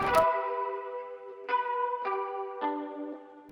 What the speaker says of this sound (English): I was messing around with some harmonic notes on my guitar